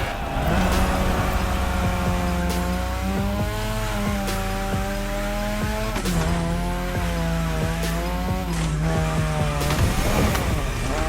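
A Mazda RX-7 2.0 in the racing game The Crew Motorfest gives a loud, continuous engine drone whose pitch rises and falls through gear changes, with tire squeal and skidding throughout.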